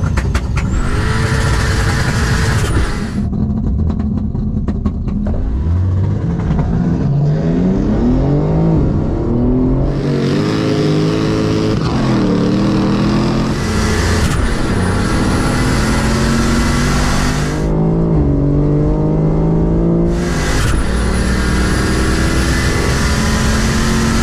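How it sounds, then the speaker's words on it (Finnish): A 5.0L V8 Opel Omega launches hard from a standstill, its engine roaring loud and close as it climbs through the revs, with several sharp gear-change dips and rising pulls, and no talking. "Ekas paikaltaan lähdös Omegan startti on väkivaltainen"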